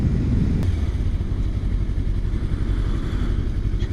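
A 2017 Kawasaki Versys-X 300 motorcycle pulls away, its engine a loud, close, steady rumble with wind noise throughout and no speech.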